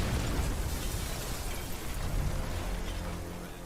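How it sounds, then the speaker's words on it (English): A fish tank heater explodes in a workshop, a broad rumbling blast that stays loud and noisy for several seconds before slowly fading. "The violent explosion blew out windows in the workshop and nearly shook the building apart."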